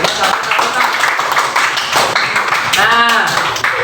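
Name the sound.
audience clapping hands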